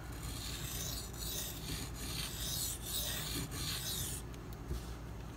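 A 52100 steel Spyderco Paramilitary 2 blade is drawn across a sharpening stone, giving continuous close scraping with a rhythmic swish of repeated strokes.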